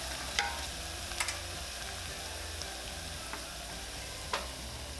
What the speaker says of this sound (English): in a small pan, add the extra light olive oil and the scallions. Cook until aromatic for about 30 seconds.